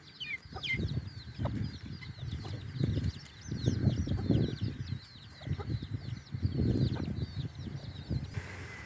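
Hens cluck in low, repeated bursts while chicks, including a young black one, peep continuously in thin, high chirps; the whole flock sounds close and fairly quiet, with no talking.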